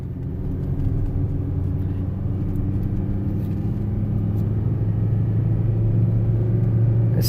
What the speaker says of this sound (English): This is all engine brake.